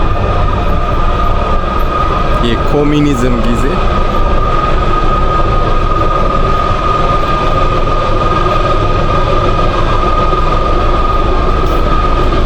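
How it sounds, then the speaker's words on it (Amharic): An old Soviet-era passenger train rumbles steadily and loudly throughout, with a constant low roar and a sustained tonal hum, while someone speaks briefly over it. "ወደዚህ ጋር በጣም አሮጌ ባቡር አለ።"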